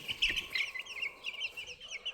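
Roosters and hens at the end of a breeding season, giving brief faint clucks and short chirpy calls in a quick irregular run, fairly distant and quiet.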